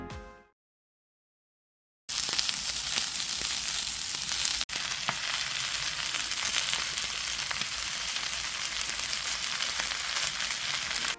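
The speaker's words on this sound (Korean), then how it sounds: "당근이 어느 정도 익으면 미리 손질해 놓은 양배추와 대파를 넣고 숨이 죽을 때까지 적당히 익혀줍니다" Cabbage, green onion and carrot sauté in a hot pan, giving a steady, close sizzle that starts after a short silence and runs on evenly with faint crackles.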